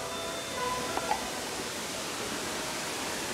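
River water spills over small weirs along the Ieriķu mill trail in Latvia, a steady hiss of rushing flow heard close and even, with a couple of faint clicks early on.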